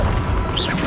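A Confringo spell explosion in Hogwarts Legacy lands as a short, loud, booming burst with a dense rumble and a brief whooshing tail, all within under a second.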